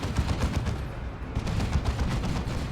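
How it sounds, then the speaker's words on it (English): Space Marines pour Hellfire rounds into Eldar infantry in Warhammer 40,000: Dawn of War 2, a dense, continuous clatter of overlapping gunfire and impacts, loud and unbroken throughout with no talk. "They'll be using Hellfire a lot against the Eldar infantry."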